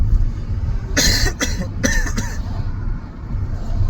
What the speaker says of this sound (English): I've been coughing all day